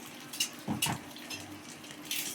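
Eggs fry in a pan alongside eggplant and peppers, a soft sizzle broken by a few scraping stirs and clinks of utensil against the pan, fairly quiet and close.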